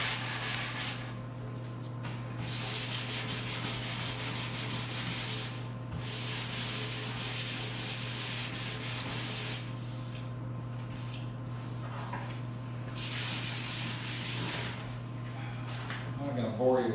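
Steady, raspy sanding of wood for a homestead laundry room and pantry remodel, long continuous strokes with brief pauses, moderately close over a constant low hum.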